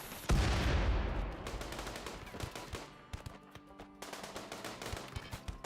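Turret gunfire during a raid in the video game Rimworld: a loud burst opens, then rapid repeated shots crackle in uneven volleys that thin out toward the end.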